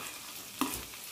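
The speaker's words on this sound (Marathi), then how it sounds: "टमाटे चांगले परतून घेऊ." Chopped tomatoes and browned onions sizzle steadily in a hot pan, a soft continuous frying hiss with one brief louder stir or scrape partway through, close and fairly quiet with no talk.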